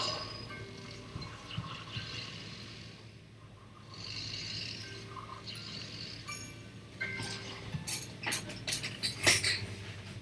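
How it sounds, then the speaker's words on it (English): A washing machine running indoors, with mechanical whirring, clunking and rattling that rises and falls, more active and louder toward the end, heard alone. "the washing machine is making so much fucking noise"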